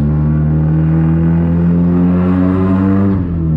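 A 1999 Honda Civic with a straight-pipe exhaust pulls hard, its loud raspy engine note climbing steadily in pitch as it accelerates, heard close up from the car with no talking.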